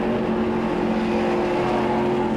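A 2018 ARCA stock race car at IRP in the Shore Lunch 200 gives a steady, loud engine drone close up; no distinct throttle blip stands out above the continuous roar.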